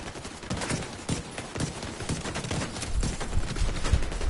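Gunfire in The Division 2 on PS5: a dense, loud stream of rapid shots and impacts, continuous throughout with no pauses.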